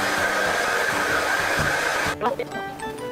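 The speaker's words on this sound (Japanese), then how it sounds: "もちろんちょっとドライヤーを使わないとわかんないけど" A hair dryer blows on freshly washed, pink-dyed hair, a loud close whooshing drone that holds steady for about two seconds and then cuts off, followed by faint rustling in a quiet room.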